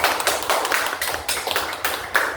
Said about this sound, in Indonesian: Kita kasih tepuk tangan Bapak Ibu.